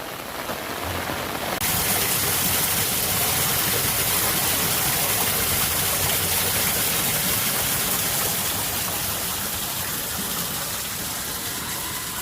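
Heavy rain from Tropical Storm Fred pours onto a garden, a dense, steady hiss of downpour that swells abruptly after a softer opening and holds loud and even, with no voices.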